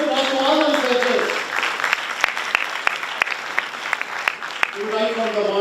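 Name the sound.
applause for deans, directors and researchers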